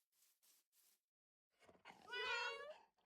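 A Minecraft cat gives a drawn-out, wavering meow after a few soft scattered game sounds, close and clear with no talking over it.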